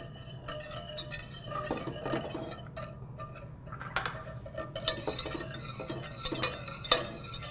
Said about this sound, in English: I just mix, I just stir away, not whisking, not aggressively adding air,